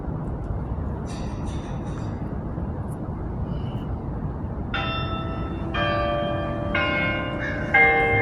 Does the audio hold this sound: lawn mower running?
no